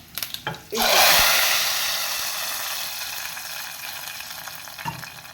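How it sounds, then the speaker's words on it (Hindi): A curry-leaf tempering is poured into katli salan curry, bursting into a loud close sizzle after a few clinks, then easing into a steady crackling fry that slowly fades with a small clatter near the end. "ये होगा हमारा तड़का। अब इसे हम डालेंगे हमारे इस सालन में, कतली सालन।"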